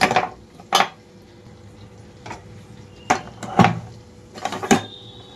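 A metal ladle mashes cooked white brinjal and tomato chutney in a pot, giving sharp, irregular clanks and scrapes against the pot with quiet pauses between them.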